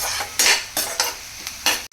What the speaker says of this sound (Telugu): ఈ ఆనియన్స్ కొంచెం గోల్డెన్ బ్రౌన్ కలర్ వచ్చే వరకు ఫ్రై అవ్వాలి.